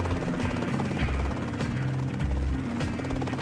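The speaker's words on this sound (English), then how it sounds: "The Robinson R-22 is today the most popular training aircraft for new pilots." A Robinson R22 two-seat training helicopter in flight, its engine and rotor producing a continuous loud throbbing drone with a rhythmic low beat, no speech heard.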